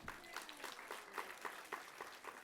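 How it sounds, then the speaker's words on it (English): A lecture audience claps in a very faint, scattered patter of individual claps, heard from a distance for a couple of seconds. "Don't clap for me."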